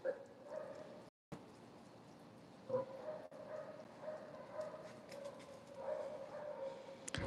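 Several dogs bark, yip and whimper in a busy shelter puppy room, overlapping calls at close to moderate distance, with a brief dropout partway through.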